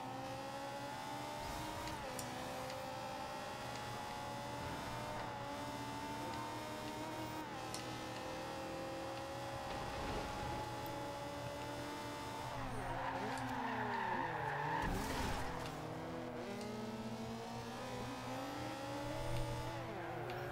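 A car races along a road in Forza Horizon 2 with a steady engine drone and shifting revs, and its tires squeal in a long skid partway through. Gear changes are also audible.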